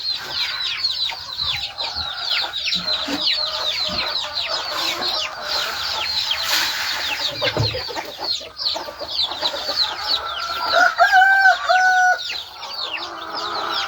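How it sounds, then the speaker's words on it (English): Chickens and a rooster on a farm keep up constant clucking and squawking with baby chicks cheeping nearby, a dense close chorus including crowing, with occasional thumps and rustling underfoot. "Try not to step on these baby chicks."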